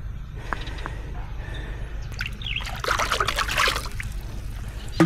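Water trickles and splashes as it pours out of a drum, a steady wet dribble that swells into a fuller gush partway through, close by.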